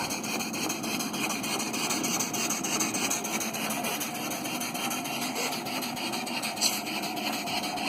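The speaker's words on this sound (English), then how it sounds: "It's a very nice little engine indeed." A small Hasbrouck #1 steam engine runs in cold February air with a steady mechanical chuffing and whirring hum, close by and constant, with no talk.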